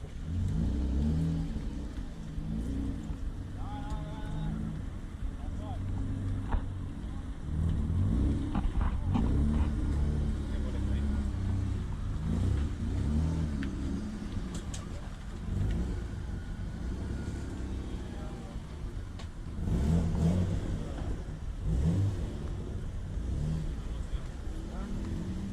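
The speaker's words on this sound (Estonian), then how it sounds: "Auto sõidab" A drift car drives and revs at a distance at an event in Latvia, a steady engine drone rising and falling in surges, with a voice talking over it.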